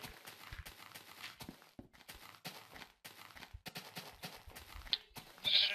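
Sheep bleating in the video game Minecraft, a few short bleats surfacing briefly amid busy game noise and footsteps, the loudest near the end.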